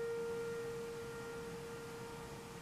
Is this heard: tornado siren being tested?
yes